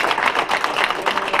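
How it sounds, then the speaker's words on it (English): A brief burst of applause from people at a city council meeting greeting a new band director, a dense, close patter of many hands with no pause. "let's give a round of applause for our new band director"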